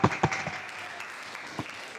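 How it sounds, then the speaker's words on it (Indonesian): Scattered clapping in a classroom lesson, a few sharp, close hand claps at the start followed by sparse, uneven claps and room noise, brief and thin rather than a full round. "Kalau semangat berarti tepuk tangan dulu untuk kita."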